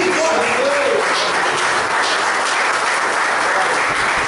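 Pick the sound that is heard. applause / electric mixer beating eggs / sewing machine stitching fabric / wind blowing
applause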